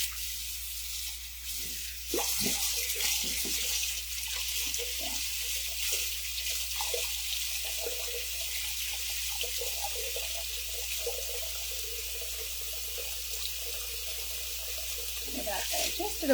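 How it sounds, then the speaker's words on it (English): Tap water runs steadily into a sink being filled with warm water for handwashing a vintage wedding dress, a constant broadband rush with light splashing that continues for the whole stretch. "so we can fill this with some water"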